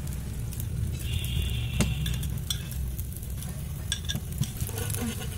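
Hot oil sizzles steadily in a pan as eggs are spooned into capsicum rings, with light spoon scrapes and clinks over a continuous frying hiss.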